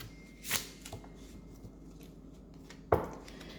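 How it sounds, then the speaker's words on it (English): Two brief riffles of playing cards being shuffled, a short burst near the start and another sharper one later, with quiet handling noise between. "So let's just shuffle them a little bit"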